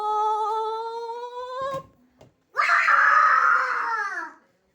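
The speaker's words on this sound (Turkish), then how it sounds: "Niye bu kadar çok bağırıyorsun?" Someone shouts loudly in two long, strained bursts during play with a ball, his voice rising and wavering, separated by a brief pause with a soft thud.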